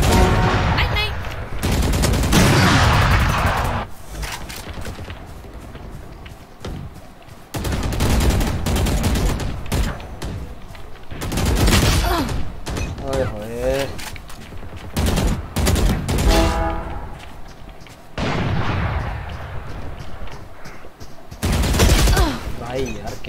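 Bursts of gunfire from the tactical shooter Valorant sound in repeated loud volleys through the clip, mixed with in-game effects and a player talking over the action.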